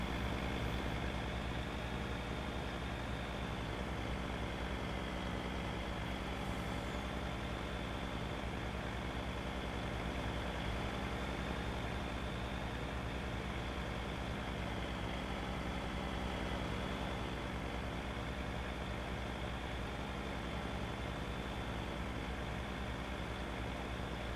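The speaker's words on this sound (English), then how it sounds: "Yeah, the tractor is also already here." A tractor engine idles steadily at a distance, a constant low rumble with a broad, unchanging drone and no talk over it.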